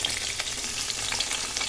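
Pointed gourd (potol) frying in hot oil gives a steady, dense sizzle with faint scattered crackles, close and even throughout, with no voices.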